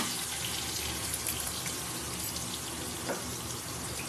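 Onions and tomatoes, with small potatoes, frying in oil in a wok, a steady close hissing sizzle with a brief clink near the end.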